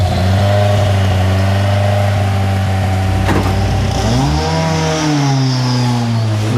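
A 650-horsepower rallycross car engine revs loudly and continuously, its pitch holding steady then dipping and climbing again through rising harmonics, with a brief mechanical clack partway through.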